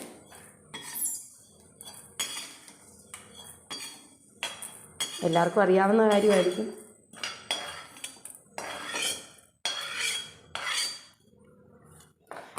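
Rice roasts in a pan for idli and dosa podi, a metal utensil scraping and clinking against the pan in irregular bursts while a person talks over it.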